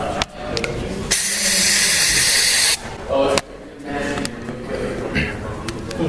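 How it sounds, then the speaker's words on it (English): A loud, steady hiss of pepper spray lasting over a second, with a couple of shorter bursts and people talking around it. "OC spray has been deployed into 3102."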